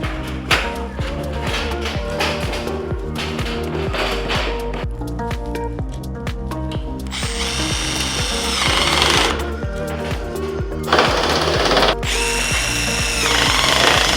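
A power drill drives screws into metal HVAC ductwork, loud and close, with whirring bursts rising in pitch as each screw bites, metallic rattling of the sheet duct between runs.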